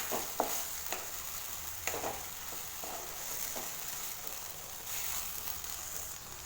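Okra coated in masala is stirred and fried in a pan, producing a soft sizzle broken by intermittent scraping knocks from the spoon, faint and close.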